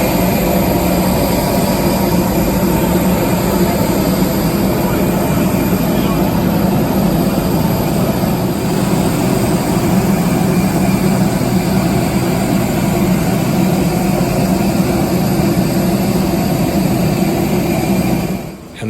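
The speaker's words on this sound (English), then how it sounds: "And this is the beautiful Airbus A321 that was taking me on today's 35-minute flight to Heraklion, Crete" An Airbus A321 of Aegean Airlines stands on an airport tarmac at a bus gate, its jet engines giving a loud, steady roar and whine close by for the whole stretch, cutting off abruptly at the end.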